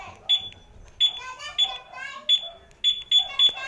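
Short high electronic beeps from a two-way motorcycle alarm on a Yamaha Mio i 125 repeat in quick bursts, some paired, over a warbling chirp pattern and faint background noise.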